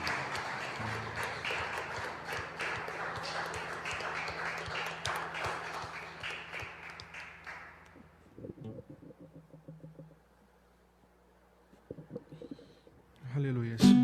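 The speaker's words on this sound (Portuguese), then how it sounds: "Vamos aplaudir ao Senhor pela vida da Dona Maria." A church congregation at a live worship service applauds, dense steady clapping for several seconds that thins and dies away, followed by quiet with a few voices and taps.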